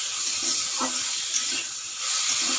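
Cabbage and green beans frying in a pan, a steady bright sizzle and hiss that runs through the whole stretch, with faint low clatter underneath and no one talking.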